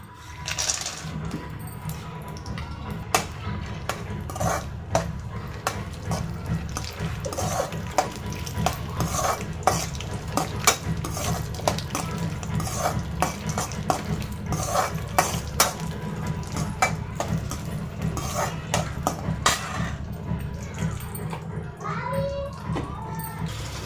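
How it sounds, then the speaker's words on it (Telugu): Dry fruits roasting in hot ghee in a kadai for carrot halwa, with steady stirring scrapes and metal spoon clinks against the pan over a low continuous sizzle, close and fairly loud throughout. "డ్రై ఫ్రూట్స్ బాగా రోస్ట్ అవుతున్నాయి"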